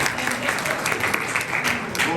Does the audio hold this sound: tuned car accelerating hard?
no